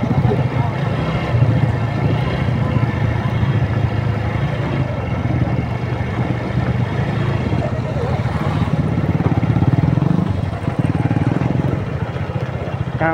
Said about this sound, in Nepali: हाम्रो दुश्मन बाइकहरूले हामीलाई डिस्टर्ब गरिसकेको छ